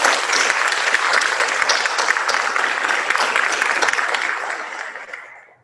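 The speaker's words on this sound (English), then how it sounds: "Let's give them a round of applause." Crowd at a pharmacy white coat ceremony applauding parents, siblings, spouses and partners, a full, even wash of clapping that holds steady then fades out toward the end.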